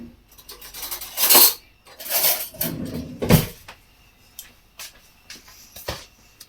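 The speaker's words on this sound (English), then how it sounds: "I'm just going to grab myself a spoon and a fork." A spoon and fork clink and scrape against a bowl while zest is mixed into icing for a mandarin drizzle cake, several sharp metallic knocks and rattles in uneven bursts, close and fairly loud.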